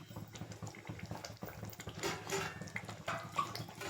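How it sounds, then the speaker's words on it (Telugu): Half a glass of water pours into a pot of tamarind and raw mango fish curry simmering on the stove, making a faint, bubbling, splashy trickle that continues throughout. "నేను హాఫ్ గ్లాస్ పోసానప్పుడు మళ్ళీ ఇంకొక హాఫ్ గ్లాస్ పోస్తున్నాను"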